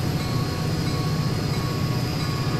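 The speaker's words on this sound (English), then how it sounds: "We have a new CSX train." A CSX SD40-2 diesel locomotive runs in the Transport Fever game, giving a steady, loud rumble with a faint tonal hum and no breaks.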